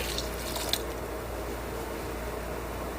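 Water streams steadily into a pot of rice cooking with yakhni stock for pulao, a continuous close splashing pour with no talk.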